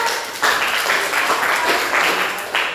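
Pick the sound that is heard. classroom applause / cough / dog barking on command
classroom applause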